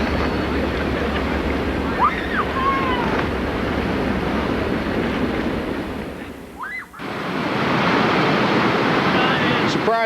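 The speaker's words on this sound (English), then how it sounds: "Surprise rapid. This is our first major rapid of the day." Roaring white water of a class 2 to class 3 river rapid during a rafting trip, a steady loud rush with wind buffeting the microphone and a brief dip before the surge returns fuller.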